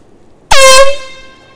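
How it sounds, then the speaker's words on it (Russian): A single loud air horn blast, sharp onset and a steady harmonic tone for about half a second before trailing off, over quiet background. "И гудок."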